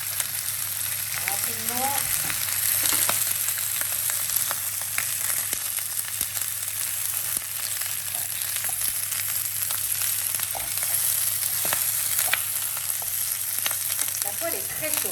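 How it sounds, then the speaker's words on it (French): Pieces of lard fry hard in a very hot pan, giving a steady loud crackling sizzle with frequent sharp pops that runs the whole time, while a voice speaks briefly over it. "pour faire revenir après les morceaux de lard"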